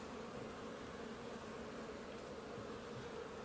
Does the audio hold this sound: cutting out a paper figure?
no